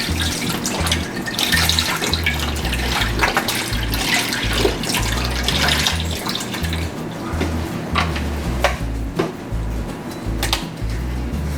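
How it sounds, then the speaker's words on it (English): Chicken broth poured into a cooking pot makes a continuous splashing, gurgling stream of liquid, close and steady throughout with uneven spurts. "we're gonna start pouring the chicken broth in"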